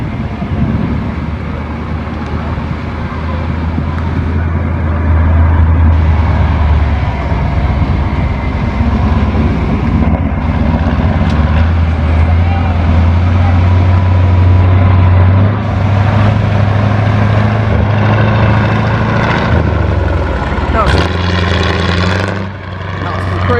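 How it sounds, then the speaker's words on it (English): A vintage vehicle's throaty diesel engine runs on a spin around the arena at a vintage rally, with a deep, steady rumble that rises and falls with the revs, and voices are heard alongside. "Sounds really throaty, that diesel engine."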